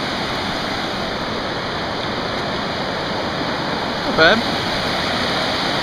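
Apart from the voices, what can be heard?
creek rapids flowing water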